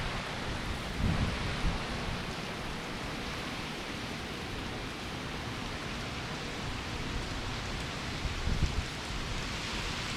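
Hurricane Laura in Louisiana: a steady, dense roar of heavy rain bands and wind fills the air, broadband and unbroken, with a couple of slightly stronger gusts.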